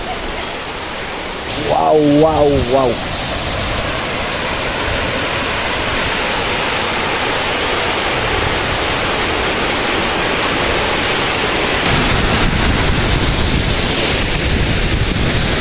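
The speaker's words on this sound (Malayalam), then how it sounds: "നല്ല വെള്ളച്ചാട്ടത്തിന്റെ സൗണ്ട് കേൾക്കുന്നുണ്ടാ." A waterfall in Coorg roars as a loud, constant rush of water throughout, and a voice exclaims briefly near the start.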